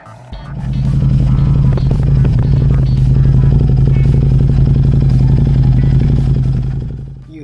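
A Harley-Davidson Street 750 motorcycle fitted with a louder aftermarket exhaust pipe runs steadily, a deep throbbing engine rumble held at a constant level for several seconds, close and loud.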